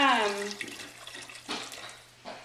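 Hot water pours from a kettle into a pot of beef stew, a close splashing rush that tapers off, with a brief whistle-like tone at the start and voices talking over it.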